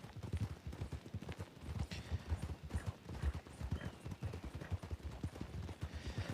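Horse hooves clip-clopping steadily along a road in the RedM western game, a quick continuous rhythm of close, fairly quiet hoofbeats with more than one horse riding in formation.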